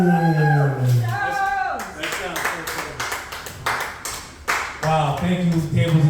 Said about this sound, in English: Clap it up for the comedy stars of Jones.